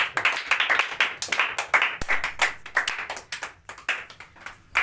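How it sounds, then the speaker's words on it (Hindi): A church congregation at a Friday prayer meeting claps loudly in thanks, a lively burst of many hands that rises and falls unevenly before tapering off. "जोरदार ताली से प्रभु धन्यवाद।"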